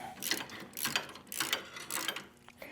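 Ratchet socket wrench with a 10mm socket tightening nuts on adjustable foot control floorboards of a Harley-Davidson motorcycle, giving several bursts of rapid ratcheting clicks in a quiet garage.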